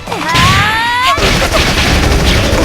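Orbital bombardment strike in the action game Closers: rising electronic whines give way to a loud, dense roar of rumbling explosions that fills the rest of the short burst, with no talk.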